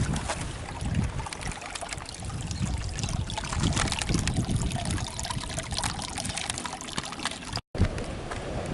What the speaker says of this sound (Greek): Δεν είναι τέλεια το ότι βρήκα ποτάμι στη Μύκονο?